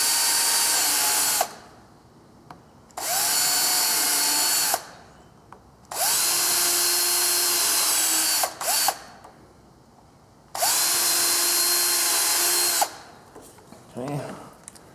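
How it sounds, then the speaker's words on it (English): A power drill pre-drills screw holes into a wooden cross piece, with four loud, close whining bursts of a couple of seconds each separated by brief quiet gaps, then a short softer mechanical rattle. "I'm gonna pre-drill these holes again because if I put 4 screws in this, it's gonna split"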